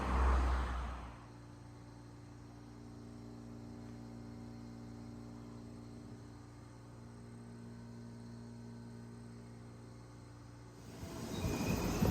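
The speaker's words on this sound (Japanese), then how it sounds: "JR 湖西線新快速網干行きがやってきました。" A JR Kosei Line special rapid train glides into a station, its steady low rumble and hum holding at a moderate distance before swelling slightly at the end; no voices are heard.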